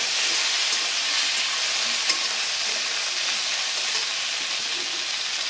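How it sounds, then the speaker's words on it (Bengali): Tomatoes and green chillies stir-fried together in a pan for a tengra fish curry, giving a continuous loud sizzle with faint stirring scrapes throughout and no voices. "দিয়ে দিব টমেটোগুলো, দিয়ে দিব কাঁচা লঙ্কাগুলো। সব কিছুকে আমি একই সঙ্গে খুব ভালো করে নেড়ে চেড়ে"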